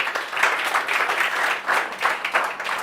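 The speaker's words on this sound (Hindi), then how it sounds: "मैं चाहती हूँ एक बार आप लोग अपने लिए जोरदार तालियां बजा दो." Students at a CA Foundation law revision lecture give themselves a round of applause: a brisk, moderately loud patter of many hands clapping in uneven bursts throughout, with no speech over it.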